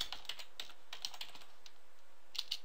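Quick bursts of typing on a computer keyboard, crisp clustered keystrokes with short pauses, ending in a louder clack; no talking.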